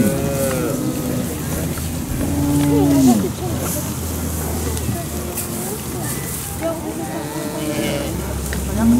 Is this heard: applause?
no